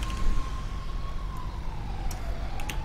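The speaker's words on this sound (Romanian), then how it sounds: "dar are sirenele în spatele tău" A police car siren wails in GTA 5, a steady rising and falling tone sweeping slowly under continuous engine and road rumble, with a few sharp clicks near the end.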